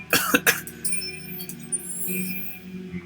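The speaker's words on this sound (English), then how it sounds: "it's coughing a bit" Two short, close coughs burst out at the start, then fade into quiet background noise with a faint clink.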